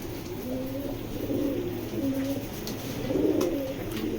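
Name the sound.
pigeons cooing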